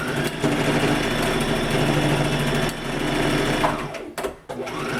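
A sewing machine stitches back and forth with dark thread in a rapid, close, loud whir that runs steadily, then halts near the end with a few brief mechanical clunks as it stops.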